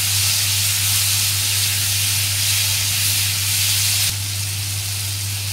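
Spices with salt and turmeric sizzle loudly in a hot pan as they are stirred, a steady close hiss with a low hum beneath that drops slightly in level near the end.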